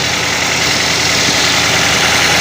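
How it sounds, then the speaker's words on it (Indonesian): A car engine idles steadily at close range, letting the alternator recharge the battery, with an even, loud mechanical hum and no talking. "Jadi dibiarkan kondisi mesin idle seperti ini, mesin menyala dengan seperti itu"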